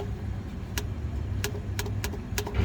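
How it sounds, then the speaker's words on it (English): Under a 2013-2018 Nissan Altima, a torque wrench tightens the CVT transmission drain plug with its crush washer to 25 foot-pounds, giving several sharp, close clicks at irregular intervals over a low background rumble. "we can grab our torque wrench and torque it down to 25 foot-pounds"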